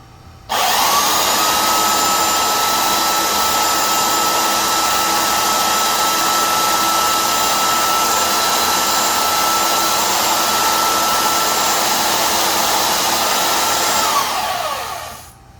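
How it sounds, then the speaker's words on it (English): A heat gun on its low setting and a belt sander run together from a 1500 W pure sine wave inverter, a loud steady blowing whine with a faint tonal hum that starts abruptly, holds for about fourteen seconds and winds down. "first we're going to have the heat gun on low. And now let's turn on the belt sander."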